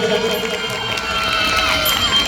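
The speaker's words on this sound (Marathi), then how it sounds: "जरा जोरदार टाळ्या पुन्हा एकदा श्रद्धा वहिनींसाठी" A crowd at a Home Minister Khel Paithanicha stage event in Yerwada, Pune, cheers and applauds continuously. The noise stays dense and steady throughout, with excited shouts rising over the clapping.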